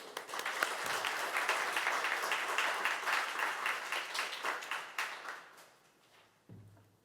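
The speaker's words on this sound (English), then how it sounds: "Please, a round of applause for Ruwangi." An audience at a State Library Victoria livestream event applauds a speaker, a full, steady burst of clapping that thins and fades out near the end.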